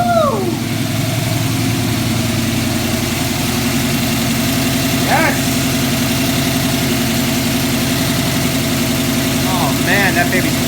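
A car engine idles steadily and loudly with a smooth, even rumble on its first start with a Holley Sniper fuel injection system, while a person lets out a short excited exclamation.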